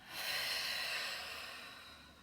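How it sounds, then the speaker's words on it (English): A single audible exhale during a Pilates exercise, heard up close as a soft, airy breath that swells quickly and then slowly fades. "breathing out"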